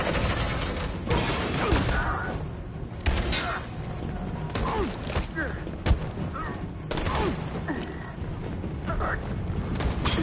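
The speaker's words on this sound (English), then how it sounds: "Suppressing fire!" Suppressing gunfire in Detroit: Become Human crackles in repeated bursts of shots mixed with mechanical clatter and sharp impacts. Shouting voices can be heard over the firing.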